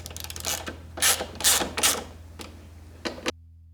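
Nuts being tightened while the foot peg is reassembled on a Peugeot XP400 GT scooter: several close, sharp ratcheting bursts with clicks between them, then quiet.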